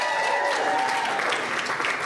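An audience at a live comedy show at the Rhino Room applauds the host and MC, a dense, steady burst of clapping with a faint voice or cheer mixed in.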